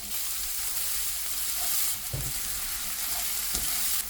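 Onions frying in hot oil with mustard seeds, cumin seeds, dried red chilies and chopped garlic for masoor dal, a steady broadband sizzle with a few soft stirring knocks, close and continuous, no voices.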